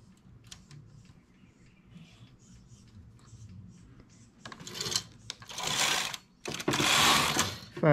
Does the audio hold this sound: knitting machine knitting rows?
yes